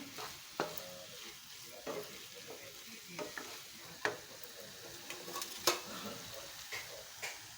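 Roasted eggplant being stirred into a bharit mixture in a pan, with soft sizzling and a series of scraping, clinking strokes of the spoon at an irregular pace, close up and without talk.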